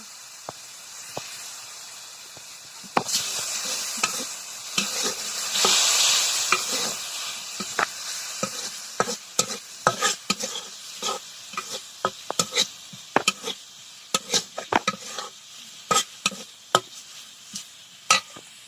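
Onions fry in a pan with salt and turmeric powder for a shrimp bhaji. A sizzling hiss swells and fades under a long run of sharp clicks and scrapes from stirring, close by, with no talking.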